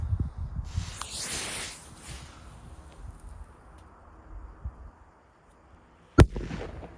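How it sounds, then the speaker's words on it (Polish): A Magnum flash firecracker goes off outdoors with one sharp, deep bass bang near the end, preceded by fizzing and rustling noise and a quieter stretch. "teraz już trochę mocniej, ale daje takie basowe uderzenie, nie jest taka hamska petarda, tylko takie basowe uderzenie"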